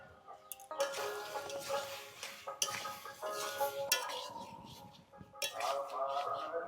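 A spoon scrapes and clatters in a pan as a spice masala paste with Kashmiri chilli powder and coriander powder is stirred and fried, in short close bursts with faint sizzling between.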